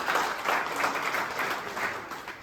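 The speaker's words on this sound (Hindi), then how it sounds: "जोरदार उनके लिए तालियां हो जाए।" Audience applause at a community conference gathering, a steady wash of clapping from a crowd of moderate size, sustained at an even level throughout.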